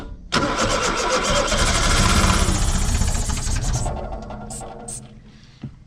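A 1970 Opel engine cranks and catches, settling into a loud, rough close-up run that gradually eases off toward a lower idle.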